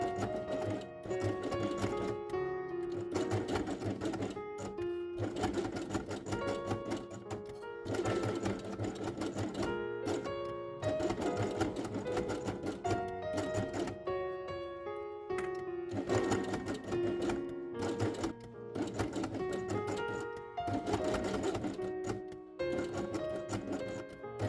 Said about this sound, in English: Then sew both elements along the edge of the hole with gray thread.